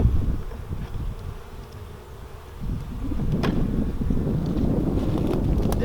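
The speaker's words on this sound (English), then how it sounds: "They're little bees." Honeybees drone steadily around an open hive during an April inspection, a dense close buzz that thickens halfway through, with light wind rumble on the microphone and no voices.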